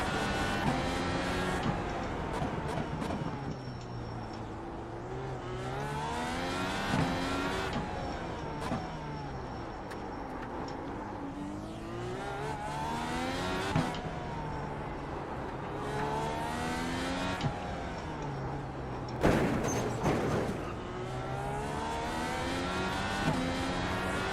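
An IndyCar race car pulls out of pit lane at the 2025 Long Beach Grand Prix on cold tyres, its engine revving loudly through repeated rising and falling sweeps, with other cars passing close by and no talking.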